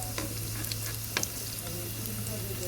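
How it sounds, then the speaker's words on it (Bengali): Helencha greens pakoras shallow-frying in a little oil hiss with a steady, dense sizzle throughout, with occasional small pops and crackles close up. "এই যে দেখুন পকোড়ার শেপে আমি আমি হালকা তেলে শ্যালো ফ্রাই করছি"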